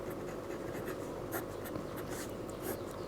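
Hand writing during a maths lesson gives a continuous soft scratching of pen or chalk strokes over a steady background hum, with small bursts as each stroke starts.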